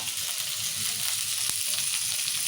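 Chillies and tomatoes frying in hot oil for a village-style fish curry give a steady close hiss of sizzling throughout, with a faint clink near the middle.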